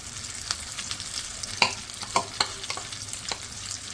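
Masala spices for Hyderabadi bagara baingan sizzle and fry in a hot pan while a spoon stirs and scrapes with occasional clicks, steady and close, no voices.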